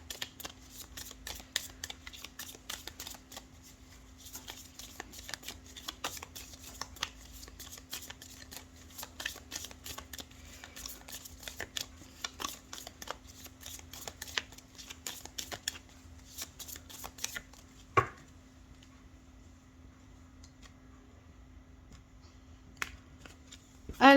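Tarot or oracle cards shuffled by hand for a reading, a long run of quick, crisp riffling flutters close up against a faint steady hum, with no talk.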